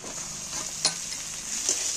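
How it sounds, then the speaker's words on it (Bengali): Tomatoes and onions fry in a pan with a bright, steady hiss close by, punctuated by two sharp spatula clicks against the metal. "এবার টমেটো পেঁয়াজ ভালো করে এগুলোকে একটু ভেজে নেব।"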